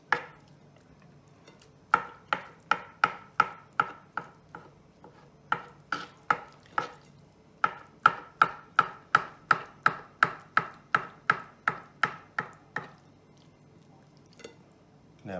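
A knife chops beef brains on a cutting board, a brisk run of sharp, evenly spaced knocks in several bursts with short pauses between them, close and alone with no talking.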